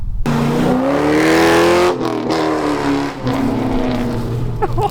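A loud, close Holden Commodore Club Sport V8 engine roars as it accelerates, revs climbing through a gear change before the throaty rumble pulls hard again.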